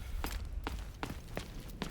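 Footsteps thud on an upper floor in Delta Force, five soft, evenly spaced steps, muffled and faint over a low background rumble.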